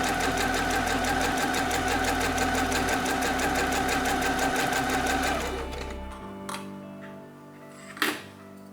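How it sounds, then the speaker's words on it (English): A sewing machine zigzag stitching a turtleneck shirt hem whirs steadily and loudly for about six seconds, then winds down, followed by a few faint clicks and a brief knock. "Last step is the hem. I'm using a plain zigzag stitch here."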